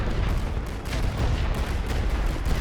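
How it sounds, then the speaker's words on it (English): Artillery shells firing and exploding in a Great War Western Front video game, a dense, continuous rumbling barrage of booms and blasts, loud and sustained throughout with no voices. "Don't know how much damage those artillery shells are actually going to be doing."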